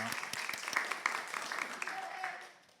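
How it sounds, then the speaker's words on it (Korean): A church congregation at a Sunday worship service claps in welcome, a dense, steady patter of many hands that carries on evenly, then thins and fades out toward the end. "우리 크게 박수를 한번 환영하겠습니다."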